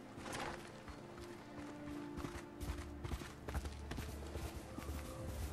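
Horse hooves clip-clop in a video game shown at Sony's E3 2018 showcase, a steady run of quick hoof hits over a dense, busy background of game sound and music.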